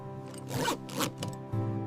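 A zipper on a camel wool jacket is run in a factory setting, giving two or three quick rasping pulls close up, with a low steady hum of machinery underneath.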